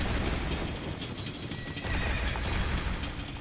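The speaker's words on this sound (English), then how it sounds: "Get out of the road, Link. There's a horse coming!" A horse neighs and its hooves clip-clop in the video game Ocarina of Time, a steady gallop under a dense, noisy game soundscape at moderate loudness.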